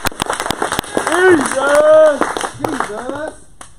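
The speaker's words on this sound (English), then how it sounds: "Let's give Jesus a hand clap." Hand clapping from a church congregation sounds as sharp, separate claps, with voices singing or calling out over them and cheers mixed in.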